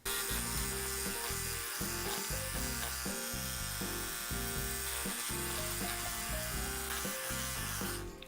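An electric beard trimmer buzzes continuously close by, its motor pitch shifting slightly as it moves across beard hair guided along a ruler, with no talking.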